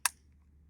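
A single sharp metallic click from a CZ P09 full-size 9mm pistol being decocked, close and alone, followed by a quiet room.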